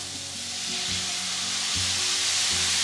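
Broth poured into a pan of hot pork chop drippings sets off a loud, rushing sizzle that swells and holds steady, with a low hum beneath.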